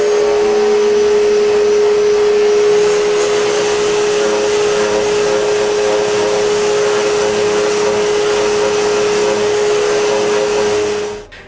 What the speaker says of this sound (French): Quand la colle est sèche, je sable le reste.